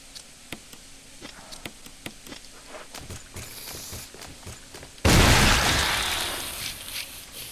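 A single loud, sudden Magnum revolver shot in the Resident Evil remastered game, a sharp blast that decays over two seconds, preceded by faint regular footstep-like ticks.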